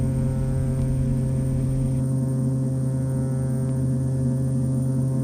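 Continuous droning propeller and engine hum from a Cessna 208 Caravan with full flaps in Flight Simulator X, a steady layered tone with a slight shift in the background whine midway, loud and unbroken.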